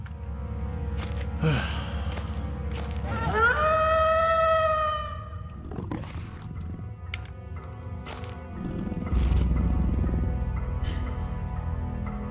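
Wolves in the horror game Penumbra Overture give a rising howl-like cry and harmonic snarls amid thuds and crashes, loud and close, with quiet stretches between bursts and a rumbling low noise near the end.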